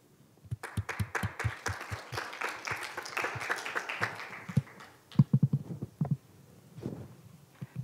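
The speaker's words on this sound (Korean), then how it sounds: "큰 박수로 연단위로 모시겠습니다." A small forum audience at a Korean peace and SDGs youth session claps in welcome, with sparse claps building into moderate applause and then trailing off into scattered final claps.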